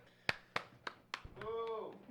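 Four sharp hand claps in an even rhythm, close and fairly quiet, followed by a voice starting to speak.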